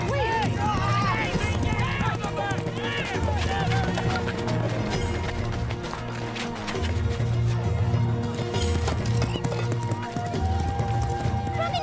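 Horse hooves clatter in a busy market scene, a rapid clip-clop of running under music and other noise, with people talking over it.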